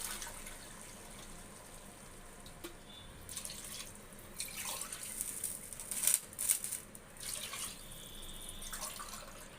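Water is poured from a glass into a pressure cooker of vegetable biryani with rice, in several separate splashing pours with brief pauses, fairly soft and close.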